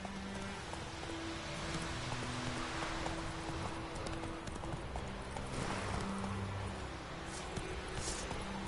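Roach, a horse in the video game The Witcher 3, gallops with rapid, continuous clip-clop hoofbeats over a dense, noisy background, with no talking.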